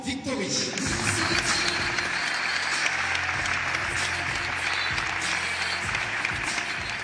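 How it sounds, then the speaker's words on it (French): A crowd applauds the 2013 Miss Saint-Pierre-et-Miquelon at a local pageant event, loud continuous clapping with low rumbling voices and background noise underneath. "Je vous demande d'applaudir Miss Saint-Pierre-et-Miquelon 2013"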